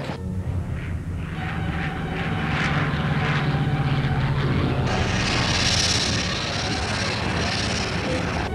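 A Messerschmitt Me-109 German fighter plane passes over the lines at a D-Day re-enactment, its aircraft engine a loud sustained roar that shifts in pitch as it flies by, with no voices.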